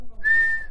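A person whistles a single steady, clear note lasting under a second in a quiet room during a saxophone lesson.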